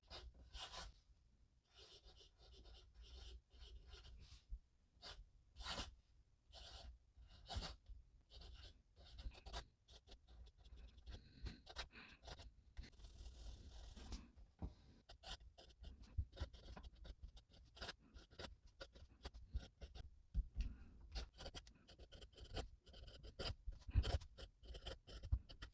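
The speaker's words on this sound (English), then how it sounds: "So for writing, I have to say this pen is just perfect." A Kaweco Perkeo fountain pen with green ink scratching across Rhodia paper in short bursts and strokes, quiet and close, with brief pauses between words and no talking.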